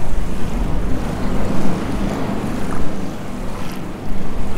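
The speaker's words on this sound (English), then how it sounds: "listen to the lovely splish splashing in the waves" Splashing water from a roller coaster train running through waves in the NoLimits 2 simulator game, a steady broadband wash with surging swells and rumble throughout.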